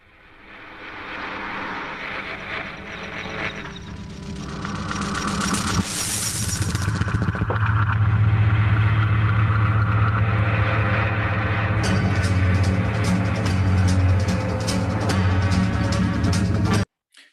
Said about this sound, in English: So there you go, the flushing toilet.